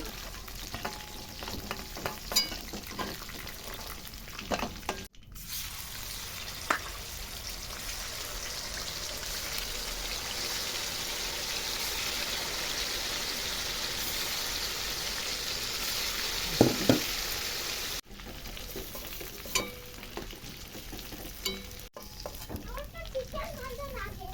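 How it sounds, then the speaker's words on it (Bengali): Chicken fries in oil with a continuous crackling sizzle and scattered spitting pops, interrupted by a few knocks and pan handling, and a voice speaks now and then. "ভালো করে ফ্রাই হয়ে গেছে চিকেনটা"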